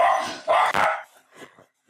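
Dogs bark excitedly in a quick burst of loud, close barks, followed by a few fainter yips.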